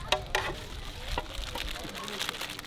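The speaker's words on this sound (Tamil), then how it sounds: "சிக்கனை ஒரு ரெண்டு ரெண்டு கிண்டு கிண்டுங்க" Chicken coated in masala sizzles and fries in a pan while being stirred, with sharp scraping clicks of the spoon over a steady crackle and people talking faintly nearby.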